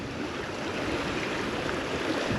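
Water of the Greenock Water flowing into the River Ayr at Muirkirk, a steady broadband rush that stays even and fairly close throughout, with no voices.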